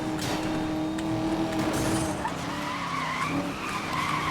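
Race car tires squealing while overtaking in Need for Speed: Most Wanted (2012), a sustained loud skid over a roaring engine, close and continuous with no talking.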